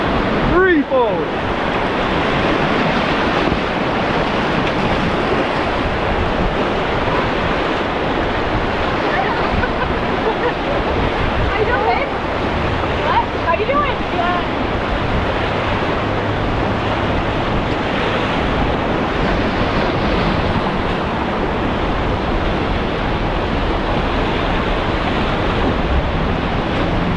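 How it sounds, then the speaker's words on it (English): River rapids and a waterfall roar during a whitewater rafting trip in the Smokies, a loud, continuous broadband rush of churning water with wind buffeting the microphone and voices talking over it. "There's your first big waterfall."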